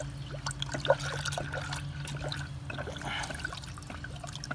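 Blue coolant pours through a spill-free funnel into a Honda CR-V cooling system, making a steady soft trickle and gurgle of liquid that runs the whole time, with a few brief clinks near the start.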